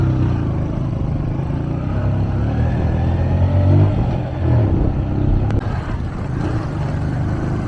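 A motorbike riding along the Lagos-Calabar Coastal Highway, its engine giving a steady, loud rumble mixed with wind and road roar, swelling slightly midway.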